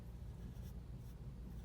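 A pencil shades on paper while drawing a walnut, a continuous close scratchy rasp with slight rhythmic strokes, heard alone without talk.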